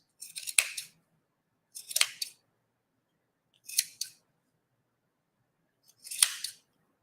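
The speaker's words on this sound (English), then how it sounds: "Just take your scissors." Four crisp snips of scissors trimming the ends of a yarn tassel, spaced about every one to two seconds, close and clear against silence.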